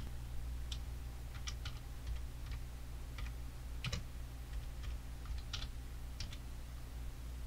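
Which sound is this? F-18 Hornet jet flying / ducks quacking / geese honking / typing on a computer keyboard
typing on a computer keyboard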